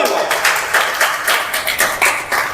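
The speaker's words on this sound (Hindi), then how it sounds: "जोरदार ताली।" A crowd at a question-and-answer talk claps loudly in rhythmic bursts, the hand claps pulsing roughly twice a second, with some voices mixed in.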